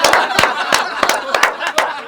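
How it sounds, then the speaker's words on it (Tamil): Audience clapping at a Tamil political roast event on Women's Day, with sharp irregular hand claps in quick bursts over a steady crowd murmur. "கைத்தட்டல் ஃபர்ஸ்ட்."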